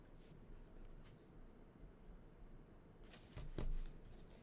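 Pencil scratching on paper while drawing a flower, faint and close, followed near the end by a brief, louder rubbing burst of erasing.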